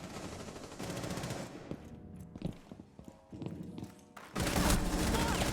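Gunfire in Rainbow Six Siege comes in quick rattling bursts with scattered sharp shots and footsteps, faint overall, ending in a loud sustained burst.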